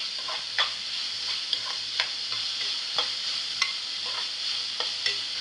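Onion sautéing in a pan for a fenugreek dish, a steady bright sizzle broken by regular scraping strokes of the stirring spoon, close and alone.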